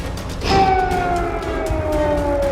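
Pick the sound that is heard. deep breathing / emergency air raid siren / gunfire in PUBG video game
emergency air raid siren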